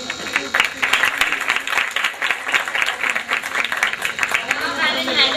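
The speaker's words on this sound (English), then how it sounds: "Please encourage them and clap to your heart and soul." An audience at a school annual play claps steadily for several seconds, a dense patter of many hands. It sounds moderately loud and fairly close, with no talk over it.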